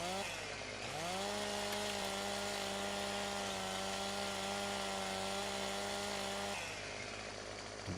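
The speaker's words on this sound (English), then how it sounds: "And the whining of that chainsaw." A chainsaw whines at steady high revs while cutting tree branches during delimbing, the engine rising at the start, holding a sustained buzzing pitch for several seconds, then dropping off near the end, loud and close with no talk.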